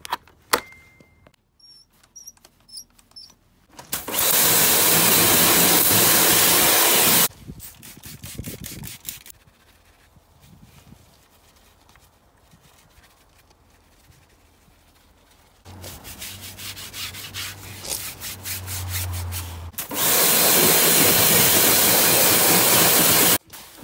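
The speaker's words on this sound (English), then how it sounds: "I'm still going to clean the wheels just to give them that extra shine." Ford Escort car wheels being cleaned for extra shine, heard as two bursts of loud, steady spraying or scrubbing separated by quieter stretches of faint rubbing and handling noise.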